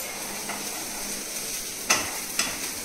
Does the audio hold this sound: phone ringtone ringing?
no